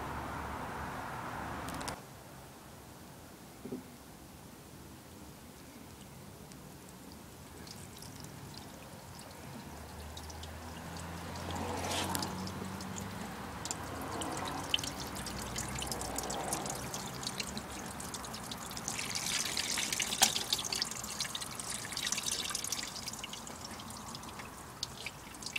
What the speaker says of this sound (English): I'm just going to do a flood test and see where the water actually goes when it pours down the